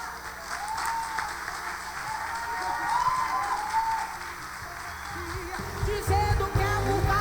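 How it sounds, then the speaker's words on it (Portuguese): A church congregation claps in praise of God during a testimony, a dense, loud burst of applause lasting throughout, with some deeper sounds and music-like tones entering toward the end. "Palmas para Deus,"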